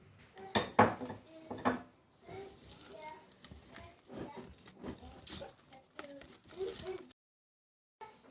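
Génoise sponge cake batter with melted butter being mixed in a bowl with a spatula: irregular bursts of clinking and scraping against the bowl, close and fairly loud, with someone talking at times.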